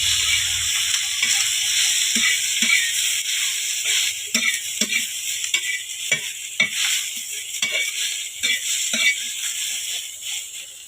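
Garlic and cumin roasting, then frying in oil in a pan on a wood-fired chulha, a steady sizzle under scattered scraping and stirring knocks from a spoon against the pan, close and continuous with no talk.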